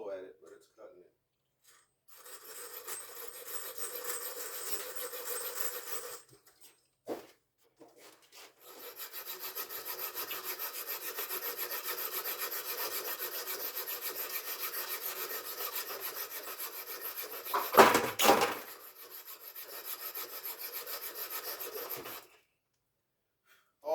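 Stainless steel is cut slowly by hand, giving a steady rasping, sawing scrape in long strokes with short pauses, fairly faint and close, with one louder burst near the end.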